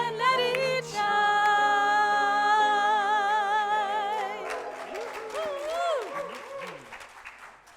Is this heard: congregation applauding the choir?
yes